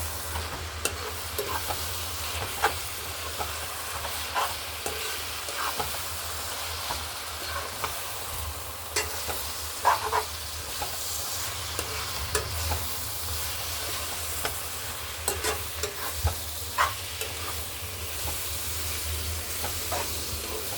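Gongura leaves sizzle steadily in hot oil, a dense continuous frying hiss lasting throughout with occasional light clinks and stirring scrapes, close and even in level.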